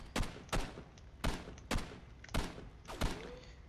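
Enemy gunfire in Condemned 2: Bloodshot lands as six sharp, heavy shots spaced roughly half a second apart, each booming and then decaying.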